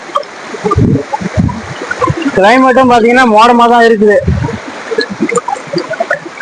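A forest stream in the Kolli Hills flows with a constant rushing wash of water beneath someone talking close by, his voice rising clearly over the steady flow.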